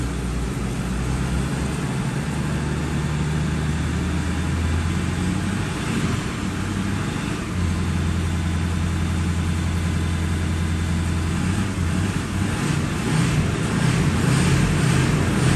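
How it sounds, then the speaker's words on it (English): A car engine runs steadily nearby at around 1200 rpm, rumbling low and rising into a louder rev toward the end, with no talk over it. "I want to show you how much I'm revving."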